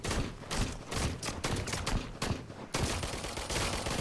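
Rapid gunfire in the video game Nether, dense bursts of loud automatic shots firing in quick succession, nearly continuous across the stretch with brief gaps between volleys.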